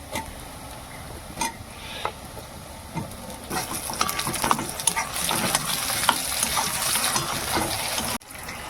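Onions browning in a pan with tomatoes added partway, a light sizzle and scraping stir that swells into a brighter, louder hiss and crackle once the tomatoes go in, then cuts off abruptly.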